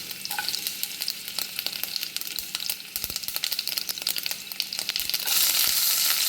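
Mustard seeds spluttering in hot oil as a tempering for aloo sukka: a dense crackle of sharp, scattered pops over a steady sizzle, swelling louder near the end.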